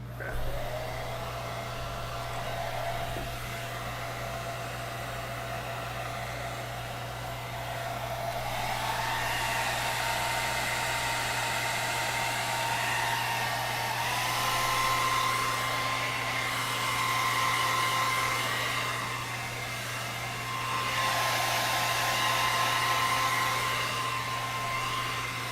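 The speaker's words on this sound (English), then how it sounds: "Sorry, I'm hair drying the head." A hair dryer blows continuously at close range over a sculpted alien head, a steady loud whir with a low hum that shifts in pitch as it moves about.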